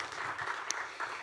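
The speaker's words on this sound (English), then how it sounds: "give them a round of applause" Brief burst of audience applause at a startup pitch event honoring the previous year's winning teams, a dense patter of clapping that stays steady for about a second.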